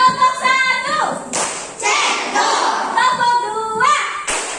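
A primary school class does the tepuk cekdot clapping routine, bursts of many hands clapping together in patterned rhythm, mixed with children's voices chanting.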